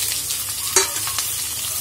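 Onions frying in a pan, a steady close sizzle throughout with a couple of soft scraping stir sounds breaking through, no talking.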